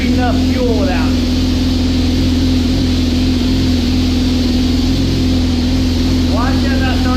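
A Suzuki GSX-R 1000 motorcycle engine running on a dyno gives a loud, close, steady mechanical drone with a constant pitch throughout, holding level rather than clearly climbing in revs.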